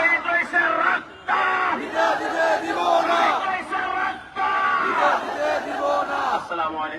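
A crowd at a street rally chants Nara-e-Takbir slogans in loud, rhythmic group shouts, with repeated bursts of massed voices separated by brief pauses.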